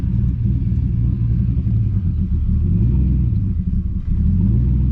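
A manual six-speed car pulls away from a stop, its engine a steady, close low rumble whose revs rise and dip as the clutch takes up, heard alone without talk.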